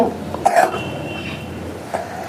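A woman coughs a couple of times, short rough bursts close to the mic in a home kitchen while baking a honey cake, with faint room noise between.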